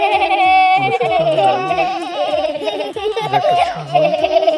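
A trained goat performing in a circus show, with high wavering bleat-like cries and chattering sounds over busy background noise and music, loud and continuous throughout.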